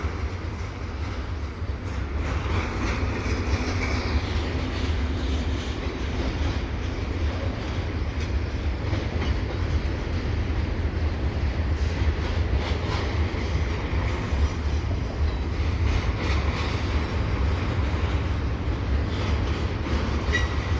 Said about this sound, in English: It's always good to be here in early evening to see freight trains here at Dorval.